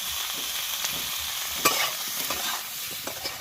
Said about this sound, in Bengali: ফুলকপি আর আলুগুলো ভেজে নেব।